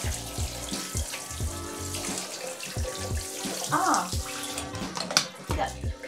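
Water from a tap pours steadily onto waterproof socks, a continuous splashing rush heard close up, with someone talking over it.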